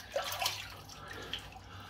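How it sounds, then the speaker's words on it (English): Water runs from a tap into a sink while hands are washed after handling slick shaving soap, a soft close splashing with a few drips, brief and fairly quiet. "I have to wash my hands, don't I?"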